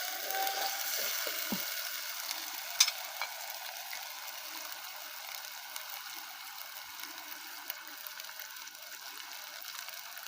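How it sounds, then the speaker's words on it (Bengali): Garlic frying in oil in a pan over a flower-shaped stove, a faint, even crackling sizzle with occasional small ticks and one brief knock near the start, no talking. "এখন একটু রসুন দিয়ে দিলাম। রসুনটাকে ওই যে ভালো করে"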